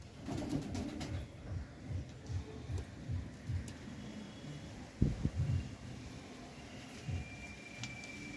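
Kalshira Lambari pigeons, a full set of males and females, cooing in a repeated rhythmic pattern of low throaty calls, fairly close, with faint background ambience.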